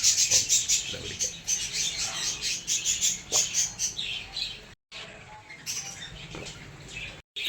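Small birds chirp and tweet in the morning, with quick, bright repeated calls close by that carry on steadily and pause only briefly.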